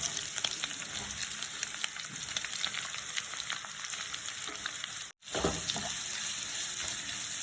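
Thinly sliced onions, three medium ones, sizzle steadily in a hot pan for Kerala meat puttu, a dense continuous frying hiss with faint stirring scrapes, broken by one brief drop near the end before resuming.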